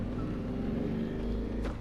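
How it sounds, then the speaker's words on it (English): A motorbike passing outside, heard as a steady low engine drone with a rumbling, wind-blown quality, fairly close and dominating the short stretch without any talking. "Oh, thanks, motorbike. Hopefully that wasn't too loud."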